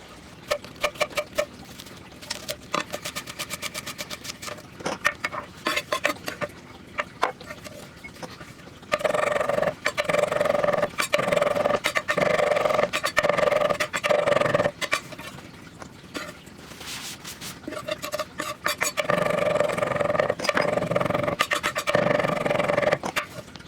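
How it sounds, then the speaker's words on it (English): A Chop-O-Matic hand chopper working through parsley makes rapid rattling, clicking plunges in irregular bursts, with two longer stretches of steady grinding whir, close and fairly quiet. "All right, let's fire up Chop-O-Matic."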